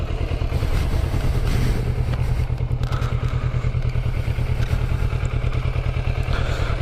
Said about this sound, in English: Listen to this stock exhaust. Very, very quiet bike.